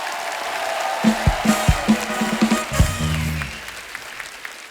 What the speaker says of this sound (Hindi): तो एक बार जोरदार तालियां हमारे मेहमानों के लिए